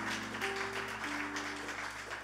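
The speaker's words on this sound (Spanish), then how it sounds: "Dale un aplauso al Señor." A church congregation applauds for the Lord, steady mixed clapping heard at a moderate distance over a sustained organ-like tone.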